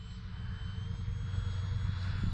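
The electric motors of an RC Dynam C-47 Skytrain scale model plane hum in a steady, droning whine during a gradual takeoff, growing slightly louder and nearer.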